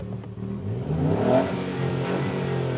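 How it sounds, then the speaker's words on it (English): A 2018 Ford Fiesta ST fires up and revs, the engine note climbing and warbling as it rises, then holding at a busy, impatient idle close by. "To get an engine note that warbles and fizzes impatiently, with a few exhaust pops and crackles thrown in for good measure."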